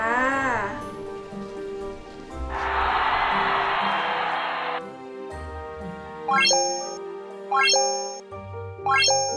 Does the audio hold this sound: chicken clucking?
no